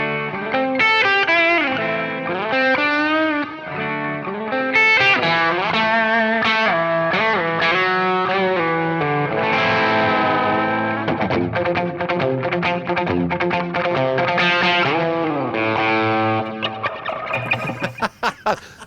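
Electric guitar played through a Keeley Halo Dual Echo pedal set to a vintage multi-tap echo, Apache-style; a loud, sustained melodic line with repeating echoes trailing each phrase, played alone without talk.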